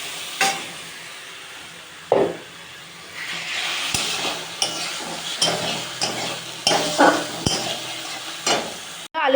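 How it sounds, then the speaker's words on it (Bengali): Potatoes being stir-fried in a spiced masala in a pan: repeated scraping stirring strokes and clinks over a low, steady sizzle, close up, with no talking. "আলুগুলো নিয়ে ভালো করে কষাবো মশলাটা।"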